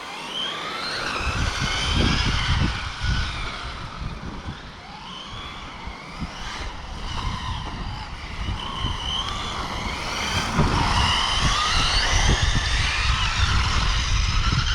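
Kamtar FG radio-controlled truck engine revving outdoors, a sustained buzzing whine that rises and falls in pitch, loud and near throughout, with faint background noise.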